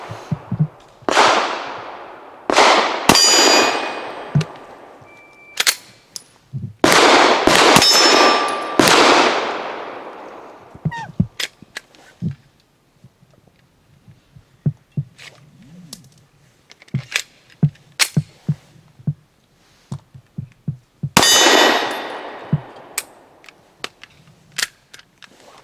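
A Sarsilmaz ST9 pistol fires rounds at steel targets outdoors, with loud sharp shots, some in quick pairs, followed by ringing metallic clangs, separated by quieter stretches of scattered clicks and handling noise.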